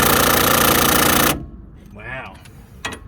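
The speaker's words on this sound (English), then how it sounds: "We have found something that the impact will not take off." Impact wrench on a shock bolt of a GMT 800 truck, loud and continuous as it hammers hard for over a second, then cuts off abruptly, leaving a quieter space with brief talk.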